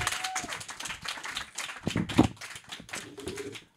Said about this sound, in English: put your hands together for Brendan Smith